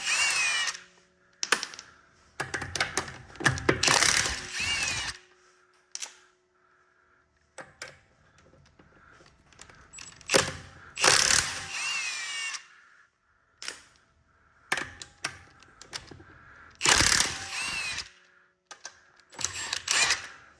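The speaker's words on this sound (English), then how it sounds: "Not a torque wrench, but an impact wrench." An impact wrench removes the 21 mm wheel nuts on a Tesla Model 3, with several loud close bursts of rapid hammering rattle separated by quiet gaps and lighter clicks.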